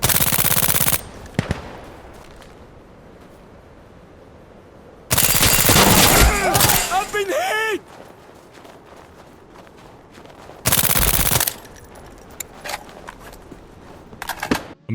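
Automatic rifle fire in the video game Insurgency, fired standing and crouching: loud rapid bursts in three separate strings, with brief quiet gaps and a few clicks between them.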